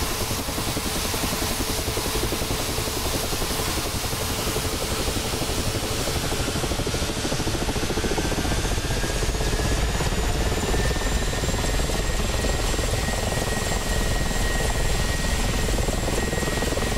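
Twin engines of a Mi-24P attack helicopter in DCS World run steadily at rising RPM, a loud continuous turbine whine and rotor drone with a faint high tone climbing partway through.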